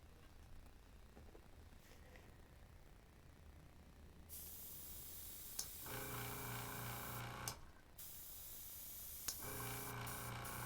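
An airbrush sprays paint in a soft, steady hiss that starts partway through and runs on, with a few brief pauses and small clicks as the spray stops and restarts.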